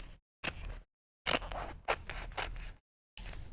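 Scissors cut through craft paper in several quiet snips separated by brief pauses, each stroke a crisp rasping slice heard close up with no talking.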